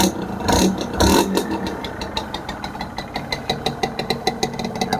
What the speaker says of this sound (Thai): เสียงท่อก็จะประมาณนี้นะครับ